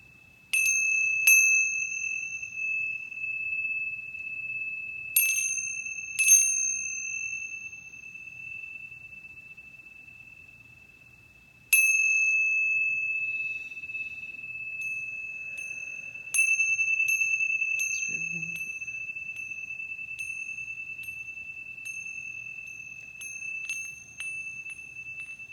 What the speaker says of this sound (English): Let me open the space with a chiming, please